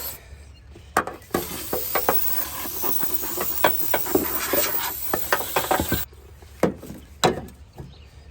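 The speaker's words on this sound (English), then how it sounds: "But I do have some canned air, so blowing this out," Canned air blasts into the air filter housing of a GMC Duramax diesel in close, loud hissing bursts, one long continuous spray followed by several short puffs, with light clicks and rustles of handling in between.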